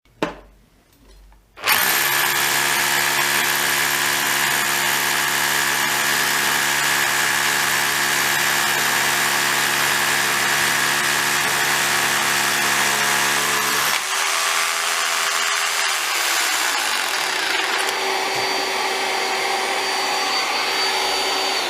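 A cheap drill runs together with a Milwaukee M12 universal dust extractor fitted with a HEPA filter, a loud steady whine and motor drone that starts abruptly, holds, then drops in pitch and eases near the end.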